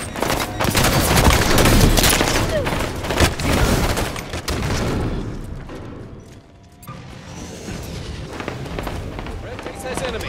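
Heavy gunfire and explosions in a Halo 5 Big Team Battle Strongholds match on the Entombed map, loud rapid bursts and booms up front that thin out to scattered shots, with game voice callouts over the fighting.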